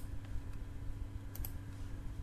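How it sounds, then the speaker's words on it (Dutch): Computer keyboard arrow keys tapped alternately with a mouse while editing, producing a few faint, sparse clicks over a steady low hum, with no talking. "Ik wissel altijd een beetje af met pijltjes toetsen op het toetsenbord"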